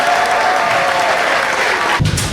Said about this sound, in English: How about a round of applause for our new